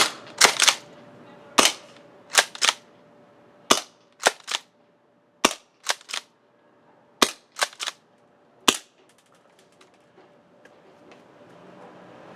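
A Jag Arms Scattergun gas-powered airsoft shotgun fires in 3-shot mode, giving loud, sharp pops in quick pairs and triples. About fifteen shots come in uneven bursts over roughly nine seconds, then quiet settles in.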